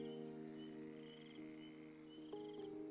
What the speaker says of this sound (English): Night forest.